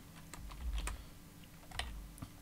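Fast keystrokes clatter on a computer keyboard in irregular bursts, fairly quiet and close, with no voices.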